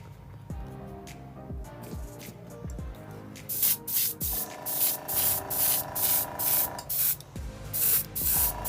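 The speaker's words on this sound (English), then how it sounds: "So now we're ready to use my airbrush" An airbrush sprays thinned flat white paint onto Jordan 3 sneakers in short, even hissing bursts. A few light taps and handling sounds come first, then the bursts repeat in a quick rhythm, close and clear.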